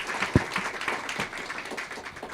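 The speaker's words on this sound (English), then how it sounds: "So let's have a round of applause for these speakers." A short burst of audience applause for speakers at a health financing event, scattered clapping in a room with one sharp near clap standing out early, fairly soft and brief.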